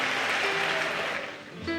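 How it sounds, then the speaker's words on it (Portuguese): Church congregation applauding during a Pentecostal service, a dense wash of clapping that fills the short stretch and tapers off near the end. "uma salva de palmas a Jesus e tome o seu assento"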